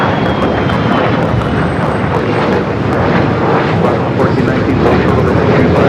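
A jet airliner takes off from runway 25 right at LAX, a loud, continuous roaring engine rumble that fills the whole span, with radio chatter over it.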